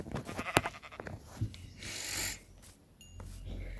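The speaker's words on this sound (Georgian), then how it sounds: "მოკლედ ერთი ცხვარიც." A Minecraft sheep gives a short, faint bleat amid soft game sounds and scattered clicks and thumps.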